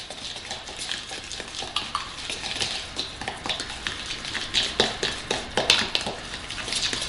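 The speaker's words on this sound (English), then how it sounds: "We're mixing it up," Cinnamon roll cake batter being mixed in a bowl, with a steady rhythm of close scraping and clinking strokes that speed up slightly and continue without talk.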